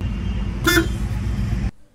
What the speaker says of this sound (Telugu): స్టాక్ హార్న్ అయితే అలా ఉంటుంది